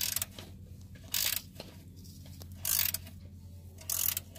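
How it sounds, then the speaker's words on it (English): Ratchet clicking as it loosens the 17mm oil drain plug on a CB7 Honda Accord, several short bright bursts of rapid ratcheting spaced about a second apart, close and alone over a low steady hum. "So I use a 17mm wrench or a ratchet."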